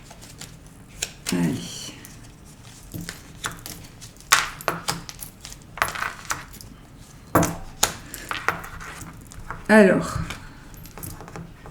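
Small metal charms are shaken and cast for a divination reading, producing bursts of bright jangling and clinking at irregular intervals, close by, between short spoken phrases.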